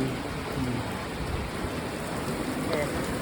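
Steady rain falls during a mountain bike ride, a dense, even hiss that fills the whole stretch at moderate loudness, with faint voices mixed in underneath.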